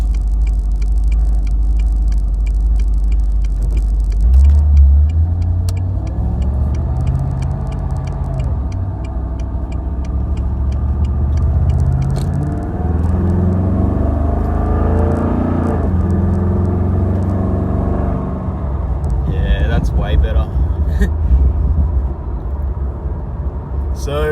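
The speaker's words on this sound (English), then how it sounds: "it just shifted into gear basically instantly by the feel of it" A Chevrolet Camaro (5th gen) with a 6L80e automatic transmission and upgraded pan shifts into gear while driving, under a steady, loud low engine rumble with faint ticking throughout.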